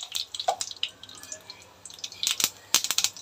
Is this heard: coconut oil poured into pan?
yes